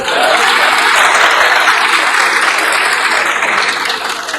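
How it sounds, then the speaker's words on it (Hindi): Loud, dense applause from a large audience fills a hall at a literary event, a continuous roar of many hands clapping together at full strength throughout, with no speech on top. "मैं कसम खाता हूँ ये हॉल तालियों से गूंजता रहेगा।"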